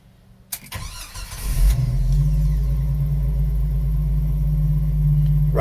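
A 1995 Jeep Wrangler engine cranks with a short whirring starter, then catches and settles into a loud, steady, close idle that continues without a break.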